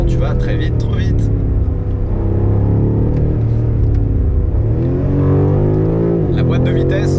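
A BMW M5 Competition engine revs under hard acceleration, a loud, deep droning roar that climbs in pitch and drops back, with a voice speaking over it.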